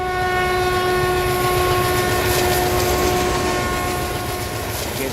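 A train at a railway station sounds a long, loud, sustained horn over the steady rumble of the rails, holding without a break.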